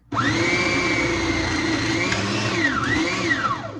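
A food processor ricing cauliflower whirs loudly and steadily from close by, its motor pitch dipping under load and recovering before winding down at the end.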